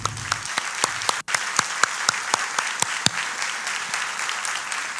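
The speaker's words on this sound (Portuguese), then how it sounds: "Eu acho que a equipe que me ajudou merece palmas." Audience applause for a team at a Christian presentation, a steady wash of many hands clapping with distinct louder claps popping out at a quick irregular rhythm, sustained throughout, with a momentary dropout early on and no speech.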